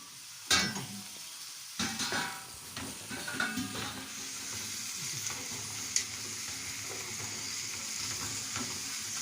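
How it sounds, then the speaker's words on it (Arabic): Zucchini is sautéed and stirred in a pan for a béchamel bake. A few sharp clanks of a utensil come first, then a steady close sizzle runs under intermittent stirring scrapes, with no talking. "نروح حاطين بقى الكوسه تتشوح فيها"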